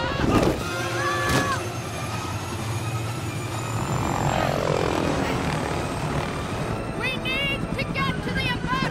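A helicopter in LEGO The Incredibles game drones with a steady engine and rotor rumble throughout, mixed with game effects and sweeps, while characters talk over it.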